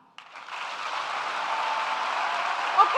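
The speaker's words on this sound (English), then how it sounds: "please let me hear you clap" An audience at a live panel discussion forum breaks into applause, starting abruptly and building into steady, sustained clapping from a crowd across the room.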